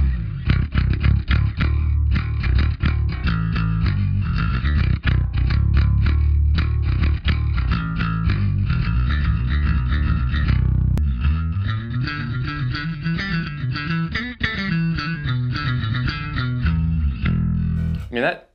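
A Charvel Pro-Mod San Dimas PJ V five-string bass with its treble turned all the way up, played in a busy run of bright, punchy notes and then sustained, sliding lines, loud and close throughout.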